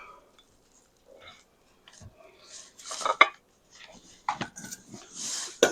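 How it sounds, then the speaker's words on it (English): A spoon scrapes and scoops the soft insides out of baked potatoes for twice-smoked potato boats, giving several close, irregular scraping clinks against the skins, with quiet gaps between them. "we're going to scoop most of the potato out of the middle."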